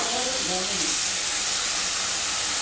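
Potatoes, turmeric, Kashmiri chilli, cumin and tomato paste sizzling in a hot pan for a Bengali potato-and-fish curry, a loud continuous hiss with no gaps.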